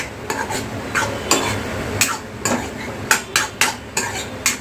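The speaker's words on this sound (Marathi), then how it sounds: "कोथिंबीरला पण आता मिक्स करून घ्या" A spoon stirs coriander into a potato and egg curry in a pan, with repeated close scraping strokes and a soft sizzle beneath, no talk.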